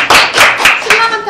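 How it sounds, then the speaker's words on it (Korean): A few people clap together in a room, several loud claps in quick succession over about a second, with a voice briefly audible at the end. "우리 박수 좀 쳐줘"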